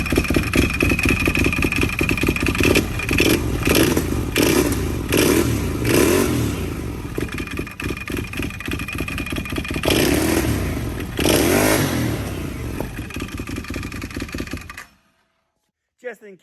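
Can-Am Outlander 840 ATV engine running with the belt box cover off, loud and close, a rhythmic clattering idle with repeated throttle blips, cutting off abruptly near the end.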